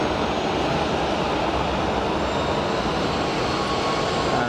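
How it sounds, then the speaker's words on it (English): Steady roar of an Egypt Air Pratt & Whitney-powered Neo airliner taxiing nearby at Geneva Airport, a broad rushing engine noise with a faint squeaky tonal whine running through it. "Egypt Air on the taxi. Making some squeaky, orky noises."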